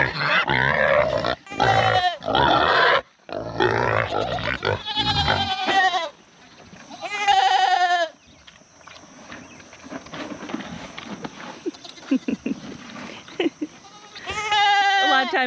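Goats bleat loudly and often at feeding time as a feed scoop is shaken, with a pig grunting in between, and a person talks through parts of it.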